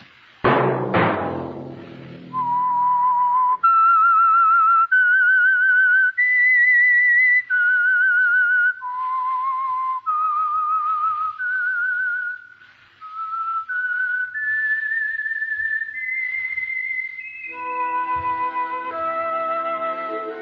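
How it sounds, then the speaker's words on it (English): A lone melodic whistle plays the theme tune of The Whistler radio show, a sequence of sustained clear pitched notes rising and falling over about fifteen seconds, following a brief burst of orchestral music at the start. "Let that whistle be your signal for the Whistler each Wednesday night at the same time"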